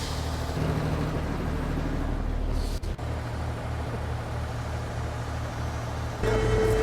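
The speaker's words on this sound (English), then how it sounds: "So what's that big lorry doing?" A big cement delivery lorry runs close by with a steady low diesel rumble, a brief dip partway, then a high electronic beep starts near the end, likely a reversing alarm.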